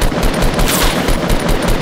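Rapid automatic gunfire from a Fortnite match, a dense continuous burst of shots filling the whole stretch at loud, close range with no talk over it.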